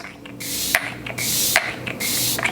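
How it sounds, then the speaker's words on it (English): Bare With Me Prime Set and Refresh 8-hour makeup setting spray misted in three close bursts, each a loud hissing spray lasting about half a second, separated by brief clicks of the pump. "I'm gonna go ahead and use the Bare With Me Prime Set and Refresh 8-hour spray for the base."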